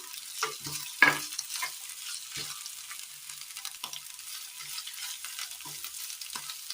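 Onions fry with a soft, steady sizzle in a pan, broken by occasional scraping clinks of stirring, faint and close.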